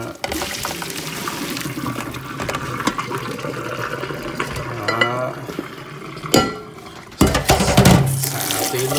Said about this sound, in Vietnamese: bây giờ sẽ đổ ra rồi đi xả nước lạnh cái chỗ miếng này